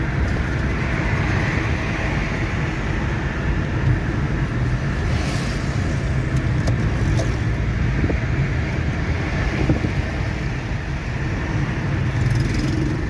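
A Hyundai car drives along a road with a continuous, loud engine and road rumble that stays fairly even throughout, without any distinct gear-change breaks standing out.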